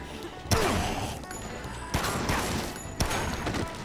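Gunfire in the video game Dead Rising: three sharp bursts of shots about a second apart, each followed by a rumbling, clattering tail, fairly close and loud with no talk over them.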